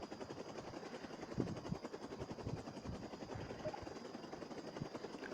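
Helicopter in the Crisis Actors video game, a steady rotor drone with a fluttering, choppy texture holding at even loudness throughout.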